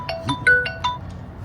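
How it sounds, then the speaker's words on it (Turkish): A phone rings with a bright, repeating electronic melody of short tonal pulses, fairly close and loud, over a low background hum. "Telefon çalıyor bu arada."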